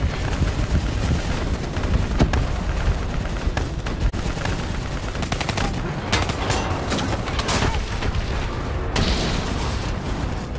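Sustained gunfire aimed at a VTOL aircraft in Call of Duty: Black Ops III, loud continuous rifle bursts with heavy booms and crackling impacts, close and relentless, no voices.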